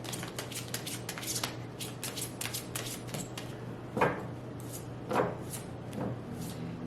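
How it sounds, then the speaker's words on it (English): Tarot cards being shuffled by hand, a run of soft riffling and rubbing flicks with a couple of louder thumps near the end, close and fairly quiet against a steady low hum. "it's so hard for me to shuffle."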